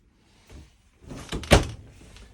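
The cabinet door beneath the kitchen sink of a 2013 Forest River Cherokee Grey Wolf 28BH travel trailer swings open and closes, light rattling then a sharp wooden thud nearby, with no voices.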